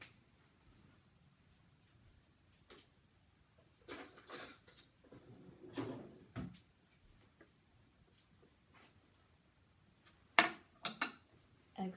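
A child fetching a spoon from a kitchen drawer at breakfast: quiet room, then scattered clinks and rattles of cutlery and a drawer, with a brighter burst of metallic jingling near the end.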